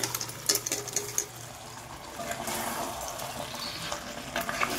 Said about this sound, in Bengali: এবার আমি যে চিকেনটা ম্যারিনেট করে রেখেছিলাম ওই চিকেনটা এবার মশলার মধ্যে